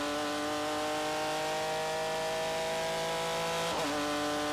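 V6 3.5-litre race car engines at Sebring in the Barber Dodge Pro Series, a loud sustained high-pitched engine drone holding steady, with a quick pitch dip as a car shifts or passes near the end.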